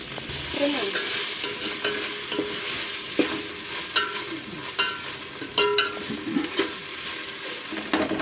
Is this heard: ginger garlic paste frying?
yes